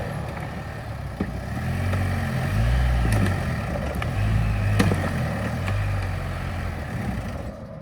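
Engine of a buggy near a Poacher block obstacle runs with a steady low rumble that swells and varies as it strains, with sharp clunks and knocks over it, ending as it cuts out.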